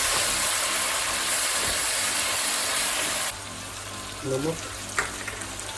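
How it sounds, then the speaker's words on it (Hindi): Tomatoes going into browned onions frying in a pan for chicken tikka biryani: a loud, steady sizzle that drops abruptly partway through and settles into a softer fry, with a brief spoken word. "प्याज ब्राउन हो चुके हैं, अब टमाटर इसमें डालेंगे।"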